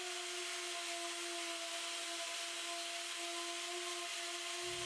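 Orbital sander fitted with 120 grit sandpaper works over the wooden surface of a mid-century modern credenza, a steady continuous whirring hum held close and even throughout with no talking.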